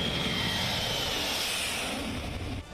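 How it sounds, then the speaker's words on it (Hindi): A MiG fighter jet roars at Leh airbase, a loud, continuous engine rumble with a high whine that holds steady for nearly three seconds before easing slightly. "और मिग फाइटर जेट की गर्जना"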